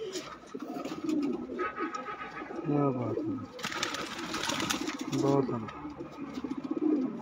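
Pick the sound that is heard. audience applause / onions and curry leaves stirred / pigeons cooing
pigeons cooing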